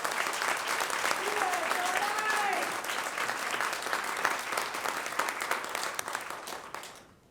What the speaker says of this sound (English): Would you please join with me a round of applause for the Jardine Middle School JROTC.